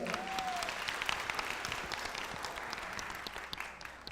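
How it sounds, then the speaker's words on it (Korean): Audience applause at a school book concert, a steady wash of many hands clapping that carries on through the whole stretch without a break. "박수 한번 주세요."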